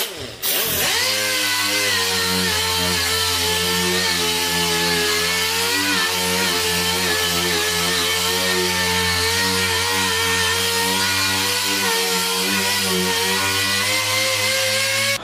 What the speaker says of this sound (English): I'm gonna start sanding with 320 with the DA just to scuff everything up